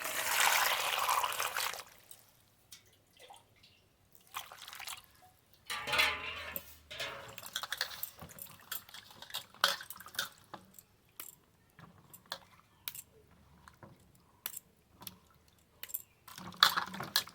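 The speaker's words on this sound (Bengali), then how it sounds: "এবার আমগুলো একটু ধুয়ে নেব জল" Freshly picked mangoes are washed in water in a home kitchen, with splashing and trickling followed by irregular drips and small clattering knocks, close and fairly quiet, with no speech.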